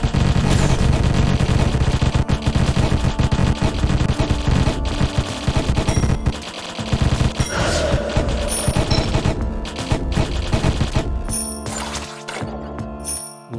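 Rapid gunfire from a weapon in the video game Deathstate, a dense and loud continuous stream of shots with crashes and thuds mixed in, breaking into shorter bursts near the end.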